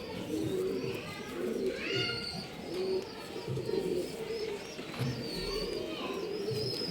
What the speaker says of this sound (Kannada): ಒಳ್ಳೆ ಒಳ್ಳೆ ಅಕ್ಕಿಗಳು ಇದೆ. ಅಕ್ಕಿಗಳು ಮಿಸ್ ಮಾಡ್ಕೊಂಬೇಡಿ.